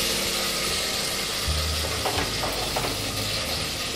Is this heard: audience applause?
no